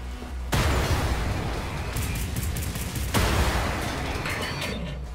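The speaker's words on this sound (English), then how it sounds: "Grenade fight." In the shooter Wolfenstein: The New Order, two heavy grenade blasts boom close and loud about three seconds apart, each followed by a long rumbling roar with scattered gunfire crackling through it.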